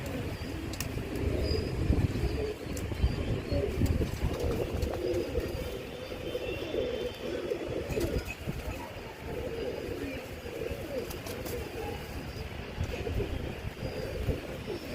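Pigeons coo and flutter nearby while one bird is held and its wings are bound with wire tape, soft cooing and rustling throughout with occasional sharp clicks.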